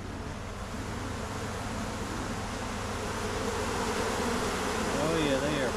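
Agitated honeybees buzzing at an open hive, a dense steady drone that grows slightly louder over the stretch, with faint voices briefly near the end.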